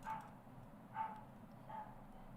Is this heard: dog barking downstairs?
yes